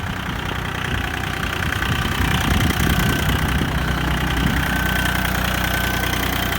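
A Japanese mini tractor engine idles steadily and loudly close by, a continuous chugging rumble with no talking.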